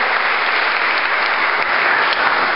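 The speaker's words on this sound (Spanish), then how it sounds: "denle un aplauso al Señor" A church congregation bursts into dense, continuous applause for the Lord, loud and sustained throughout, with a faint crowd murmur blended in.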